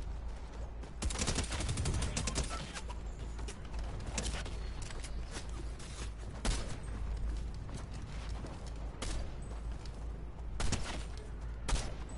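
Shots crack out in a Fortnite match, with sharp gunfire reports spaced irregularly over constant loud game noise and rumble, heard from close range.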